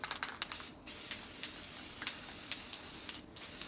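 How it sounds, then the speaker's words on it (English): Spray can of automotive-grade primer hissing in steady bursts, with a short gap between two sprays, close and fairly quiet. "It's just an automotive grade primer, spray can."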